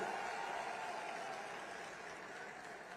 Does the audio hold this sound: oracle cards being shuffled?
no